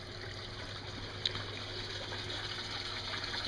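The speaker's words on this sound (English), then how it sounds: "And the bed is flooding right now." Water flows steadily into an aquaponics grow bed planted with Thai basil, a continuous low gushing and trickling with a faint pump hum, fairly quiet and without talk.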